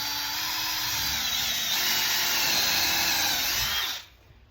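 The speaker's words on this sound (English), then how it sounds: "So we're going to drill pilot holes for our main screws." A power drill bores pilot holes into wooden floor joists under a rotten floor in a raised house, a loud, steady high-pitched whine for about four seconds that cuts off abruptly near the end.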